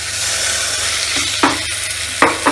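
Pumpkin stirred and sautéed with dry thyme in a pan, a steady sizzle with a couple of sharp spoon scrapes near the end, close and alone.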